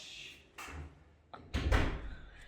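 A door opens indoors during an escape-room game, with a couple of clunks and a louder knock and rattle as it is pushed open.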